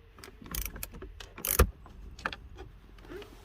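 Ratchet and metal mechanism sounds while T30 screws are removed from the airbag of a 2009-2014 Acura TL, with a few close, short clicking bursts and one louder clack.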